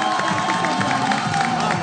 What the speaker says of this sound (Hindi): भरपूर तालियां नवाल के लिए